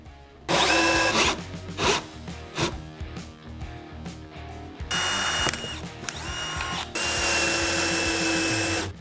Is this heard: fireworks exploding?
no